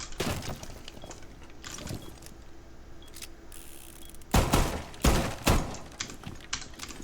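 Wall breaking in the video game Rainbow Six Siege, with a series of sharp crunching, splintering impacts, a few early bursts and then several louder cracks clustered near the end, alone with no talk.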